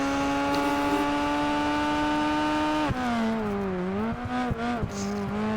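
A race car driven in Project Gotham Racing 4 on a hot lap: a loud, sustained engine whine held steady, then dipping and rising through gear changes with brief clicks, no voices.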